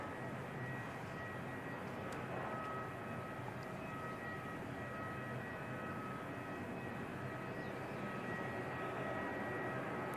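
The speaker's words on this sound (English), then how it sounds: "we can see the Air Chatham's ATR" An Air Chatham's ATR turboprop on flight 40 hums faintly and steadily in the distance at Christchurch Airport, a low, even drone with a few thin tones running through it.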